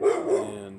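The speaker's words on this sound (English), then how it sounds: "I think that dog's probably going to keep barking at me until I leave." A dog barks outdoors in a short, fairly close burst of a couple of yelps, with a faint voice at the very start.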